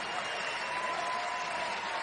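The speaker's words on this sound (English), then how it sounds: "Crowd giving Alex Hobbs on senior day a nice ovation" A basketball arena crowd applauds a senior player on senior day at a Boise State game against New Mexico, a steady wash of clapping and cheering that holds evenly throughout.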